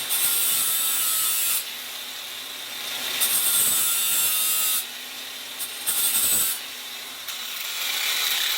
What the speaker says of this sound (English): Now I'm going to grind the little side.